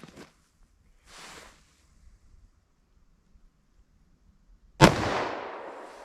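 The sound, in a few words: gunshot from a 10mm pistol firing into ballistic gel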